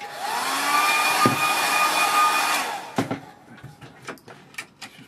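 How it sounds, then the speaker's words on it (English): A hair dryer blows close and steady over a watercolour painting of a landscape, whining continuously for under three seconds before switching off, followed by a few light knocks and handling sounds. "Let's give that a quick dry."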